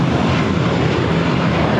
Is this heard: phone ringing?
no